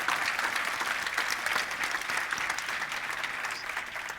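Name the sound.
audience round of applause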